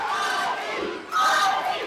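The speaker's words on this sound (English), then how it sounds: "And listen to this crowd, Blake." Crowd at a live CCW wrestling show in Port St. Lucie, Florida, cheering and shouting loudly throughout, with a brief dip before the noise surges back up.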